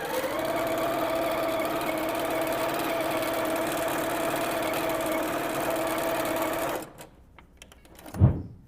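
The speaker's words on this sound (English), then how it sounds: "then we can sew the rest of this shut with our machine" A sewing machine runs steadily and loudly, stitching quilt binding shut, for about seven seconds, then stops abruptly, leaving quiet handling sounds and a brief low thump near the end.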